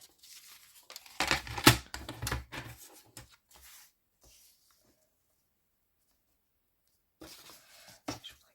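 A Christmas card decorated with napkin decoupage is cut with crisp paper snipping and rustling in two short bursts, separated by several seconds of near silence.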